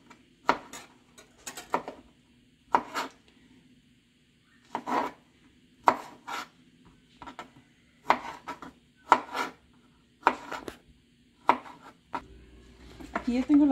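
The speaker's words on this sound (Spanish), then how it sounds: "Estas fresas ya las lavé, están lavadas y nomás las vamos a picar" A knife chopping washed strawberries into small pieces on a cutting board: sharp, close taps in irregular clusters of two or three with short pauses, ending in a scraping sound.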